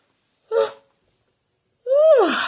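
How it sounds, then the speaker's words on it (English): Two breathy human yawns, the first short and quiet, the second after a pause louder and longer, opening with a rising breathy sound and then sliding down in pitch as it fades. "Hopefully I'll stop yawning pretty soon."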